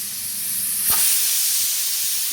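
A pressure cooker cooking chicken curry vents steam in a loud, continuous hiss that swells briefly near the start and then holds steady, close by.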